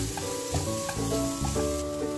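Meat masala and garam masala sizzle in a hot pan while a spoon stirs through them, a close, soft continuous fry broken by several rhythmic scraping strokes, with no talk.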